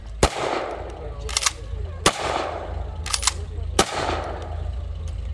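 WWII rifle firing blank rounds at a WWII encampment demonstration at Old Bethpage Village Restoration, three sharp outdoor cracks spaced about two seconds apart, each followed by fainter metallic clicks, over steady background noise.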